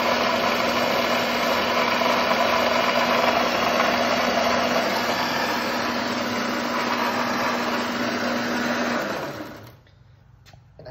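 A Rolux motor converted from gasoline to battery power runs at slow speed, making a steady whirring hum with a constant tone. It is close and continuous for about nine seconds, then winds down and stops.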